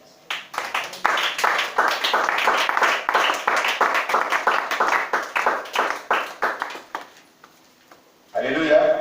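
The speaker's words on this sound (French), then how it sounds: "on acclame le Seigneur" A church congregation at an Easter service claps in a steady, rhythmic beat for several seconds, loud and close, then the clapping fades out and a voice speaks at the end.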